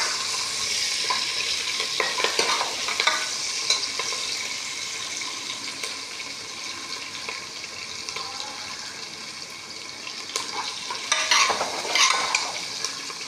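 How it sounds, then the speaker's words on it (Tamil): Onions for sambar sauté in a pan with a constant bright sizzle, while a utensil stirs and scrapes in uneven bursts that grow busier toward the end. No one speaks. "இப்போ வெங்காயம் போட்டுட்டோம். வெங்காயம் நல்லா வதங்கினோன்னா"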